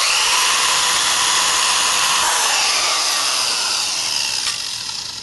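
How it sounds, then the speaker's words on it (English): A quick strip disc on a power tool grinds paint and rust off old Wheel Horse tractor parts. It makes a loud, continuous, harsh abrasive whir that holds steady for several seconds and eases slightly at the end. "So I got this quick strip disc."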